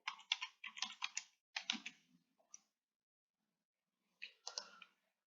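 Fingers type on a computer keyboard in quick clusters of clicks, entering a search on a census website. The clicks come in two short runs separated by a pause, close and fairly quiet, with no speech.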